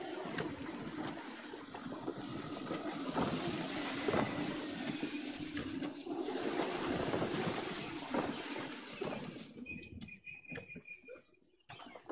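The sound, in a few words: gusting wind at sea, from the video game Assassin's Creed 3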